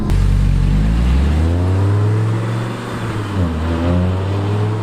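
An Audi R8 accelerates hard, its engine note climbing and rising in pitch as the revs build, dipping briefly around a gear change and then rising again, loud and close from inside the car.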